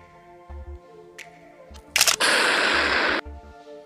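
An aerosol spray can bursts during an experiment with a sharp crack, then a loud, sustained hissing gush for about a second that stops abruptly, with faint low thumps before and after.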